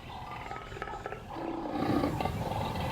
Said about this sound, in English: the rare sight of a leopard growling in the tall grass